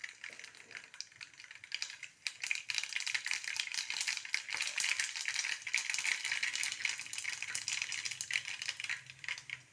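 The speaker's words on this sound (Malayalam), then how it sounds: "കടുകിട്ട് കൊടുക്കാം." Mustard seeds hiss and crackle in hot oil in a pan for tomato chutney, a dense, close, continuous rattling sizzle with rapid spattering pops.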